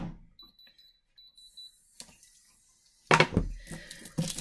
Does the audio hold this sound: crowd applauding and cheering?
no